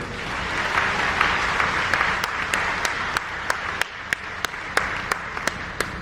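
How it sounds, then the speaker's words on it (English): Audience at a 2022 sports TV awards ceremony applauds, a thick wash of clapping that thins into a few sharp, regularly spaced claps near the end, with crowd murmur underneath. "Can we give a quick round of applause for Mr. Juwan Holmes"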